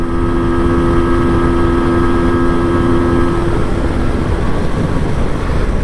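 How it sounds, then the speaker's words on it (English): A 1984 MZ TS125 motorcycle engine drones at high revs under heavy wind rush while riding, steady and loud, with the pitch shifting slightly as it pulls along. "This bike just wants to go, it likes to be revved,"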